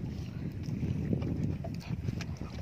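A fishing boat's engine runs steadily at dusk, a continuous low chugging rumble with wind buffeting the microphone.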